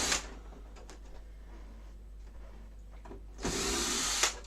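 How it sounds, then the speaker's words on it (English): A cordless battery drill unscrews screws from a faulty TV, with short whirring bursts at the start and a louder sustained buzz near the end, separated by quiet handling noise. "Only it's long, so I prefer to use Accu drill."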